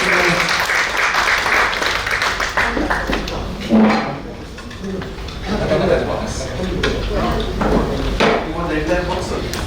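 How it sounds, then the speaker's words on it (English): An audience at a reunion banquet applauds with a broad burst of clapping early on, followed by people talking over clatter and scattered claps. "So please give me a round of applause."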